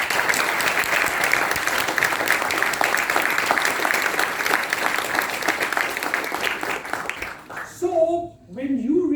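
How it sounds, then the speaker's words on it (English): A large audience applauds for a speaker at a motivational talk, with loud, sustained and dense clapping lasting about seven seconds before it tapers into brief voices at the end. "Please give him a big applause."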